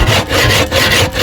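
A hand saw rasps back and forth through a wooden board, close and loud, in steady strokes with brief pauses between them, while building a plate rack.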